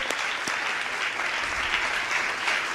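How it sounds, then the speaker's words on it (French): Steady audience applause at a conference-debate, a room full of clapping hands, sustained and even throughout with no voices rising above it. "je vous demande de l'applaudir à Anne Chevrel d'avoir animé cette soirée"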